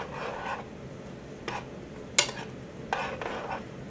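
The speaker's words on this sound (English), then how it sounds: "Let me throw a few onions into the mushrooms here. Stir this around." Onions and plain button mushrooms are stirred in a pan: soft, close scraping and clinks of a utensil against the pan come in several short bursts over a quiet background.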